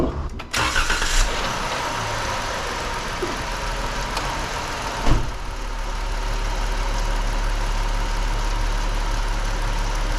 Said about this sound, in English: So 83, the max during startup, was exactly the same. That's starter noise.